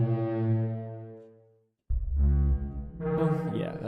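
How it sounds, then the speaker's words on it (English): A simulated Parasaurolophus call, made by pushing air through a 3D-modeled crest full of tubes and airways, gives a deep, resonant, horn-like blast that fades out, then a second rougher, buzzier blast follows. "So scientists 3D modeled it, pushed air through it, and it sounded like this."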